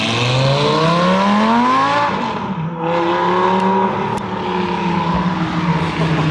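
A loud sports car with a non-standard exhaust accelerates hard down the road at a Ferrari and Porsche cars and coffee meet in Colchester, its engine note climbing through gears and then easing off as it passes, with no talking.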